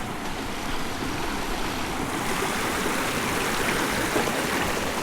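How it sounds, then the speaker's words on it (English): A very small stream at a hiking trail crossing in Kentucky, its steady broadband rush of flowing water running evenly throughout with no talking. "coming up on another very small stream crossing"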